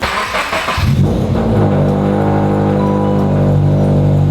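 A car engine turns over and catches, then settles into a loud, steady idle drone at about 1500 RPM, close up with no talking.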